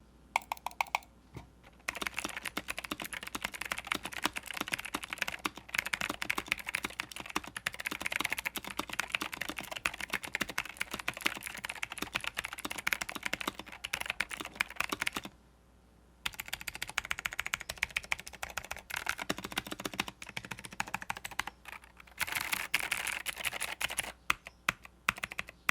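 A TH80 mechanical keyboard fitted with clicky Gathering Blue switches types in steady, rapid bursts of sharp clacks, close and alone, with a couple of brief pauses along the way.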